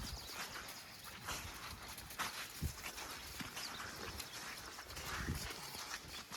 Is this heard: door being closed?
no